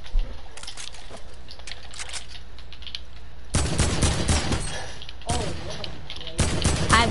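Bursts of AK rifle fire in a video game, loud broadband volleys starting partway through and repeating in two or three close clusters, with quieter game ambience and faint background noise before the shooting begins.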